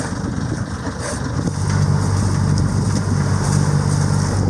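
A small inboard motor on a 9-metre sailboat drones steadily at close range on a calm sea, a low rumbling idle that grows slightly louder partway through, with no talk.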